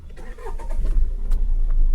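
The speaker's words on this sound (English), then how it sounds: "Okay, so first start the engine." A car engine is started: a short burst of cranking leads into a low, steady engine hum that carries on to the end.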